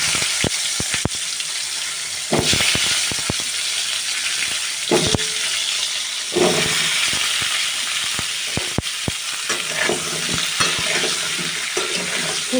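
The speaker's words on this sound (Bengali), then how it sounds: "এবার এই তেলের ভিতর আমি ফুলকপি ভেজে নেব।" Cauliflower pieces fry in hot oil in a pan, a steady loud sizzle running throughout with repeated sharp clicks and scrapes of stirring, and brief bursts as the pieces are moved; no one speaks.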